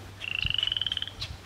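A frog at a forest pond in Quebec gives a rapid, evenly pulsed trilling call lasting about a second, clear and fairly close, followed by a shorter chirp.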